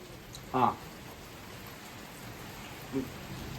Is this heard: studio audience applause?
no